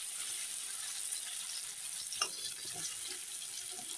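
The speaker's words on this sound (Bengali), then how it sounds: "এখন আস্তে আস্তে ভাজা হোক" Potato pieces with salt and turmeric frying slowly in a pan, a steady soft hiss with faint crackles throughout and one brief sharper pop partway, close and alone without talk.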